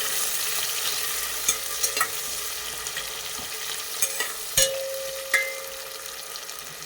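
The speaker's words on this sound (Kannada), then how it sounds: "1 ಕಪ್ ಈರುಳ್ಳಿನ ಹಾಕ್ತಾ ಇದ್ದೀನಿ" Onions and whole spices frying in oil for chicken biryani give a steady hiss of sizzling, broken by light scraping and clinks of a stirring spoon against the pan, close and alone.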